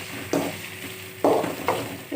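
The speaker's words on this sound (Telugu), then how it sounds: "ఇప్పుడు ఈ చికెన్ అందులో వేసేస్తున్నాను. ముందు కొంచెం ఫ్రై చేసుకోవాలి చికెన్." Boiled chicken pieces fry in hot oil in a pan, a loud close sizzle that swells in bursts as they are stirred and turned, with no talking over it.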